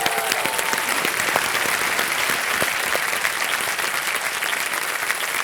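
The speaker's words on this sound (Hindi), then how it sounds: "एक बार जोरदार तालियां हो जाए इनके लिए." Energetic studio audience applause on a television quiz show, many hands clapping in a dense, even burst that continues steadily to the end.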